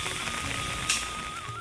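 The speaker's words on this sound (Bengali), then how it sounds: "আজ থেকে দুপুরের পর থেকে প্রচণ্ড বৃষ্টি হচ্ছে" Heavy afternoon downpour with floodwater lingering nearby, a steady close hiss of rain hitting surfaces, fairly loud and continuous through the short stretch.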